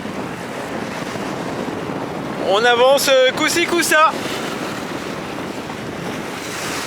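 Ocean waves and wind on a sailboat close-hauled at sea, a constant loud wash of water and wind, with someone speaking briefly in the middle.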